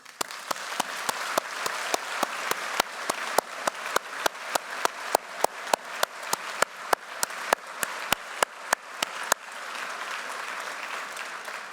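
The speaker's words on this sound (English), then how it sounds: "join me in thanking them with a round of applause" A graduation audience at Ravensbourne University London applauds in a sustained, fairly distant round, with sharp individual claps standing out in a regular pattern before the applause thins near the end.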